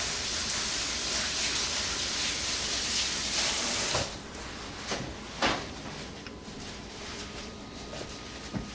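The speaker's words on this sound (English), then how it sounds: "I'm going to wash my hands for just 1 second." Hands being washed under a running kitchen tap, a loud continuous rush of water that stops partway, followed by a few separate knocks and handling clatters.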